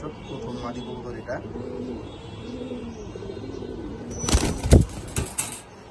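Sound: pigeons cooing

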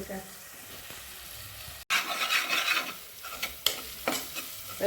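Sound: sautéing and stirring in oil in a pan

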